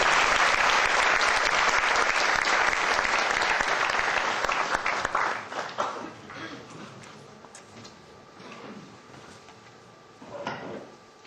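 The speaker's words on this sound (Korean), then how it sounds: "여러분들 큰 박수로 맞이해 주시기 바랍니다" Loud, dense audience applause fills a lecture hall as a speaker is welcomed, sustained for several seconds before thinning into scattered claps and settling down, with a brief final flurry near the end.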